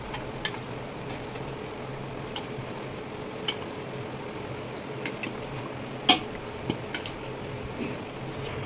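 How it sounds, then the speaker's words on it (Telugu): Curry going into a pot for egg dum biryani, with soft stirring, faint sizzling and occasional light clinks of a utensil against the pan over a steady low kitchen hum. "ఇప్పుడు దీంట్లో ఈ సిమ్లో పెట్టుకొని ఇప్పుడు దీంట్లో కర్రీ వేసుకుందాము"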